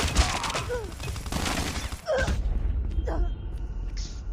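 Rapid bursts of MSMC submachine gun fire in the mobile shooter Call of Duty: Mobile, a dense rattling run of shots over game noise followed by a couple of sharper, isolated effects near the end.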